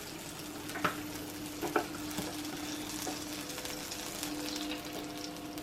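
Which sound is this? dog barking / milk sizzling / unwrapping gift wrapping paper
milk sizzling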